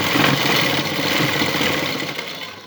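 A sewing machine runs steadily, stitching a folded strip of gum lace onto cloth, its motor hum and rapid needle chatter continuous and close, with no talking.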